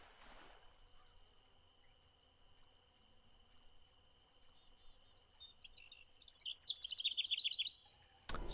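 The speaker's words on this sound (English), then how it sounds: "Still have the daybirds chirping." Daytime birds chirping in the PC fishing game Fishing Planet: faint scattered tweets against a quiet ambient bed with a steady high tone, building into a denser flurry of calls near the end, followed by a brief burst of noise.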